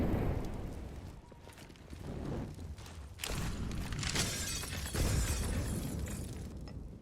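Grenades burst during a Counter-Strike match, a series of rumbling booms and crackling blasts at about one, three and five seconds that rise over a low background of game noise.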